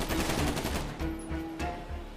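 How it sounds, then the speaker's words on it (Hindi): Gunfire rings out in a video game: a rapid string of shots, like machine-gun bursts, at moderate volume with no voices over it. "उस तरफ से गोली चलाने की आवाज आई"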